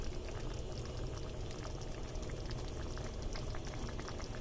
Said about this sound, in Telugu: టెన్ మినిట్స్ సిమ్లో పెట్టి ఉడకనిద్దాం